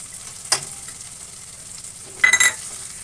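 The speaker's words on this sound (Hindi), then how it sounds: "तो प्याज के साथ हमें लहसुन और अदरक का पेस्ट डाल देंगे।" Onions frying with garlic and ginger paste in a kadhai for a halwai-style aloo matar tamatar curry, giving a low steady sizzle broken by two brief louder stirring clatters, near and without talk.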